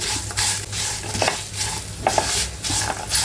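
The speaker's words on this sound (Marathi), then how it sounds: "नंतर ह्यामध्ये बटाटे घालायचे हे बटाटे आधीच फ्राय करून घेतले त्यामुळे इथे परतायला जास्त वेळ लागणार नाही" Pre-fried potatoes are stirred into varai upma in a pan, giving repeated close scraping strokes of a spoon against metal over a continuous light sizzle, in an uneven rhythm.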